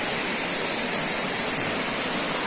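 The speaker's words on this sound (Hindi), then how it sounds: "ऊपर का जो वाटरफॉल है वहाँ से पानी आता है" Water rushing steadily from a waterfall at Mahakondeswar temple near Abu Road, Rajasthan, a loud, even broadband roar with no breaks and no voices.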